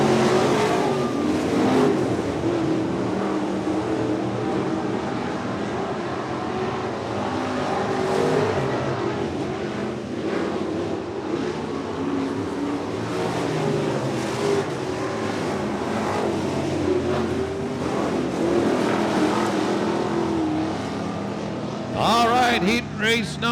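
B-Mod race cars running a heat on a dirt oval, engines roaring and revving continuously as the pack circulates, while a track announcer talks over the noise.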